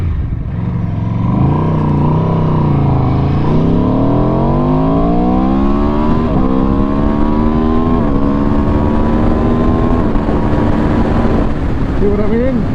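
A 2018 Aprilia RSV4RR motorcycle accelerates through the gears, its engine note rising repeatedly with quick upshifts in between, loud and close, with wind rush behind it.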